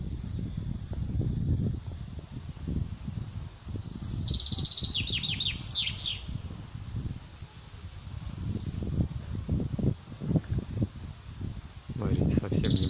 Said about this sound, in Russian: Предположительно, соловей.